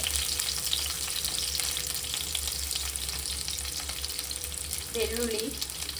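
Onions frying in a pan for a village-style egg and chicken curry, a loud continuous sizzle close by with a brief clatter near the end, no talking.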